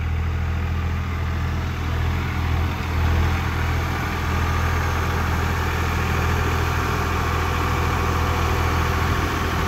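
A tractor engine idles nearby with a steady, low throbbing rumble that holds constant the whole time.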